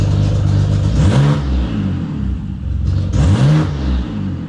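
A BMW E90 engine runs close by at idle, its low throbbing hum broken by two quick rev blips that rise and fall in pitch.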